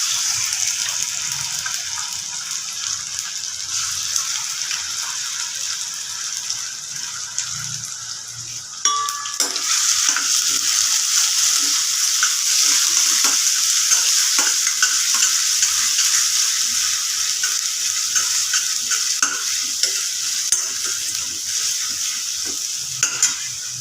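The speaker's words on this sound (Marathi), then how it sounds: "पेस्ट चांगली परतून आता आपलं लसूण परतलं आहे" Ginger-garlic paste frying with onion in a kadhai for prawn biryani gives a steady, close hiss and sizzle with scattered stirring scrapes, growing louder partway through and continuing alone without talk.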